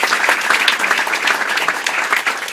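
An audience at a Rick Scott campaign event in Fort Walton Beach applauds the candidate's mother, dense steady clapping from a crowd throughout.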